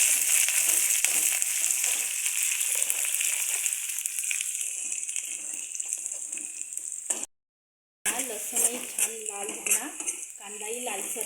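Curry leaves frying in hot oil in a home kitchen, a steady bright sizzle running throughout with faint clinks of a utensil against the pan, briefly cut to silence near the end before the sizzling resumes.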